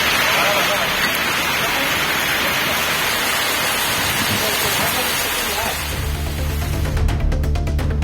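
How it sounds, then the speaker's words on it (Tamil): Heavy rain pours steadily in Tiruvarur, a dense wash of drops hammering surfaces, loud and constant throughout, ending with a brief electronic tone; no clear thunder stands out. "திருவாரூர் சுற்றுவட்டார பகுதிகளில் இடி மின்னலுடன் கனமழை கொட்டி தீர்த்தது."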